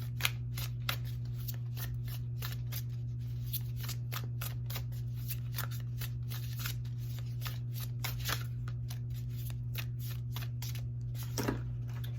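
Oracle cards are shuffled in a rapid run of crisp, papery riffles and flicks, close and fairly quiet over a constant low hum.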